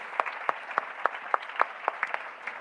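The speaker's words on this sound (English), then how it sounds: "I think there is a second round of applause for that" Scattered applause from a conference audience at a food industry event, responding to student pitches; a handful of distinct, spaced claps ring out moderately close in a quiet room, with no one speaking.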